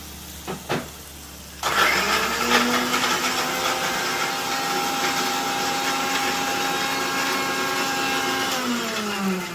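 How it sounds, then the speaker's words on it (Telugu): A mixer grinder grinding masala paste starts up with a sharp whine and runs steadily and loudly, its motor droning with a high grinding hum after a couple of brief knocks. "ఇప్పుడు ఈ లోపల ఇది మిక్సీ పట్టేసుకుంటాం"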